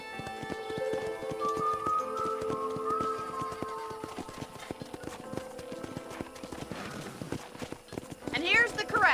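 Horses in a Western ranch corral in Red Dead Redemption walk with crisp, steady hoof clip-clops, close and rhythmic. A short neigh rises near the end, and a voice talks over the hoofbeats.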